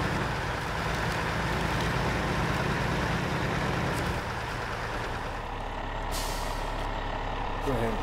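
A heavy truck in the SnowRunner video game sets its air brake. A steady engine rumble runs throughout, and a short hiss of released air comes near the end, with no one talking.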